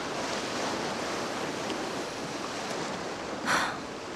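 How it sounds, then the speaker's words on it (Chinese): Sea waves break and wash in a continuous close surf roar, with one brief louder crash near the end. "我本来印象中的大海呢是安静的，可我今天感觉大海其实也是可以热情充满激情的。"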